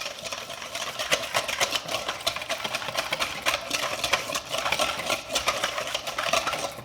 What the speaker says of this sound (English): So I'm gonna add a little bit more olive oil. And we're gonna whisk that again.